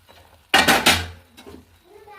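A clay pot lid comes off a pot of chicken dum biryani with a single loud clattering scrape, a short ceramic clink follows, and then comes quiet.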